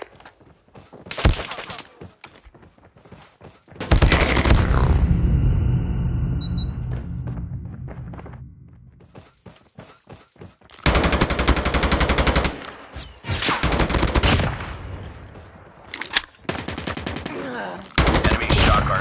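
Assault rifle fire in a first-person shooter video game: loud, close bursts of rapid automatic shots separated by short pauses, with sharp cracks that fill the mix.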